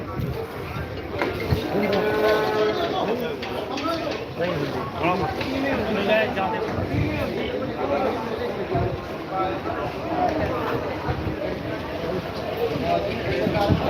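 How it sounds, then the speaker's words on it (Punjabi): A busy livestock market at Dhanaula with buffalo and cattle, animal lowing and shuffling mixed into a constant hubbub of people talking nearby. "ਬਹੁਤ ਚੰਗੀ ਮੱਝ ਹੈ"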